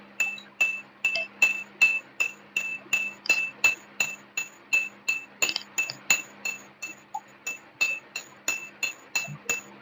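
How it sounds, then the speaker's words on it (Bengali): A metal spoon stirs tea in a glass, producing rapid, regular bright clinks against the glass, about two per second, close and steady throughout with no talk. "এবার একটু নেড়ে নেবো।"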